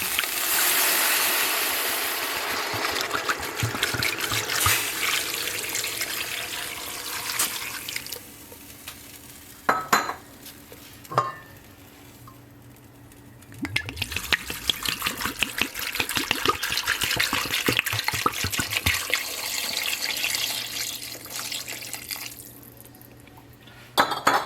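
Tap water gushes into a pot holding a spatchcock turkey with rosemary, thyme and oregano, filling it to submerge the bird, with metallic clanks of the pot and brief pauses in the flow.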